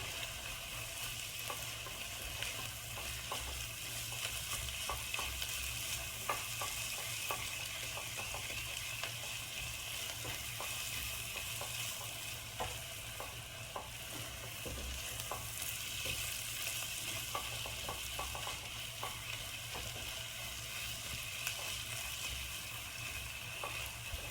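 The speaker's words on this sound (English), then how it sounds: "So then you kind of saute that in with the rest of the vegetables." Vegetables and tomato paste sauté in a pan for shakshuka, a low continuous sizzle with occasional stirring scrapes and clicks over a long stretch, no talking.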